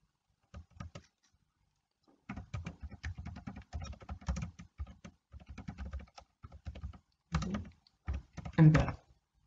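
Computer keyboard typed on in short bursts of quick key clicks with pauses between, close and fairly quiet, while saving a file for an MBAL reservoir modeling course.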